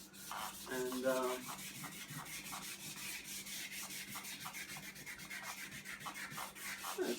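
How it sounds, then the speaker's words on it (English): Rhythmic hand sanding with flexible 150-grit sandpaper on a Triumph Rocket motorcycle front wheel, a quick series of rasping back-and-forth strokes, close and fairly quiet. "Ultra flexible sanding paper."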